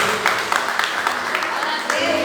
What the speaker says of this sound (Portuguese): Se coloque de pé, irmãos, aplauda Jesus.